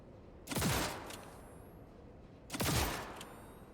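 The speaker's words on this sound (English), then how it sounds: "I just realized this gun shoots 4 bullets at once and they form a cross pattern" Two separate bursts of gunfire from a gun that fires four bullets at once in a cross pattern in the video game Cyberpunk 2077, each a sharp loud blast with a short decaying tail, about two seconds apart.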